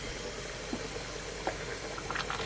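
A pot of vegetable curry bubbles at a low simmer, with a soft continuous hiss broken by scattered small pops and blips, faint and close, with no voices.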